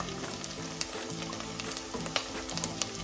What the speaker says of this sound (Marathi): आता कांदा भाजत आल्यानंतर आपण हे जे चिकनचे पीसेस आहेत ते यामध्ये टाकून द्यायचे आहेत